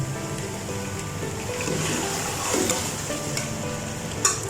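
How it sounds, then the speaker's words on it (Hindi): Meat, potatoes and green peas fry in a pan with a steady sizzle, stirred now and then with scraping strokes and a sharp clink near the end. "अब हम इसमें ग्रीन पीस ऐड कर देंगे, यानी कि मटरों को फ्राई करेंगे अच्छे से।"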